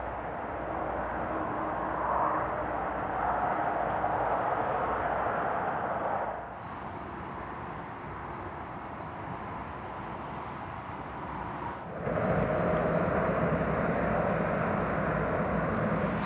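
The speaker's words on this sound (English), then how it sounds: "as I apologise for the extreme traffic noise." Steady, loud roar of passing traffic on a dual carriageway bypass beside a canal towpath, a dense continuous rush with brief dips as the flow thins, then swelling again.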